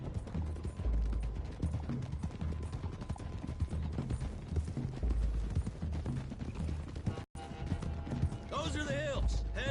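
Several horses clip-clopping along a road in Red Dead Redemption 2: a steady, close patter of hooves with faint tack rattle, continuing beneath the talk of men riding together, with a brief dropout near the end.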